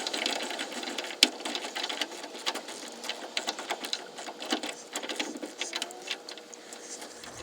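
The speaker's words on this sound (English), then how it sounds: "Just gonna ratchet it the rest of the way." An extended ratchet drives a bracket bolt the rest of the way, a rapid, steady clicking that runs for several seconds at close range, with no speech.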